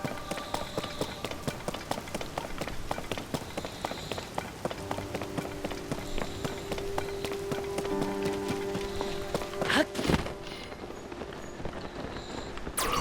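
Steady rain pours down in The Legend of Zelda: Tears of the Kingdom, a dense, even patter of drops that runs throughout, joined by rhythmic running steps and a few brief tonal game sounds.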